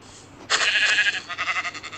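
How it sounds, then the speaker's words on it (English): A single sheep from the video game Minecraft bleats loudly after a brief quiet start, its wavering cry trailing off in pulses. "Sheep."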